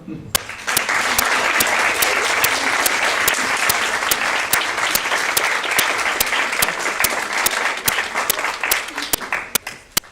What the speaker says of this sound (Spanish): Para los que piden un aplauso.